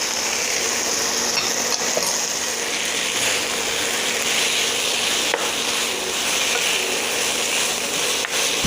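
Bamboo shoots stir-frying in a pan with curry paste and fish balls, a steady close sizzle with occasional scraping clicks of a utensil stirring throughout, no talking.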